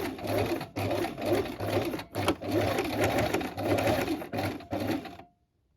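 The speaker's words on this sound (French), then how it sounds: "vous faites plusieurs points avant-arrière pour renforcer votre couture" Close, loud sewing machine running a dress seam, stitching forward and back in quick bursts with brief stops to reinforce the stitching, then stopping, with no speech.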